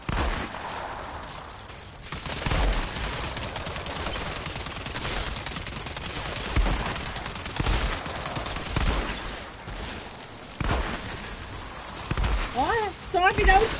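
Gunfire in the video game Outriders: repeated sharp shots and bursts run through the whole stretch, fairly loud and mixed with other game noise.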